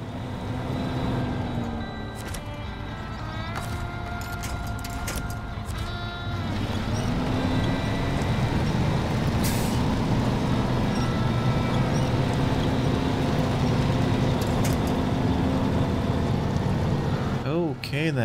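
A heavy truck strains in the SnowRunner video game, its engine droning and laboring loudly at a low pitch, revving up partway through and holding a rough, sustained growl to the end.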